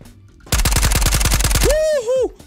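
A Saiga shotgun fires in a video game, a rapid close burst of about a dozen loud shots in quick succession, followed by a startled vocal exclamation.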